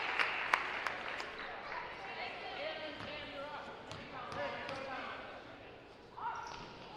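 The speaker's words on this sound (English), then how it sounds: "Strom will come in for Gamble, who gets a nice round of applause." Crowd applause in a gym at a girls' high school basketball game between OA and Taunton, scattered clapping with sneaker squeaks and a bouncing ball, under a commentator's voice.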